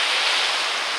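A broad, steady rush of surf fills the whole moment, loud and close, like waves washing onto a Sicilian beach.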